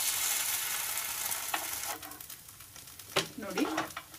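Drumstick leaf padu sizzles in a pan as it is turned over. A loud hiss at first fades to a softer crackle, broken by a few sharp scraping and clinking turns of a spatula.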